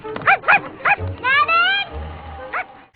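A small dog yips and barks in a quick series in a scene from the 2003 film The Cat in the Hat, with voices, a rising whine and other film sounds mixed in around the barks.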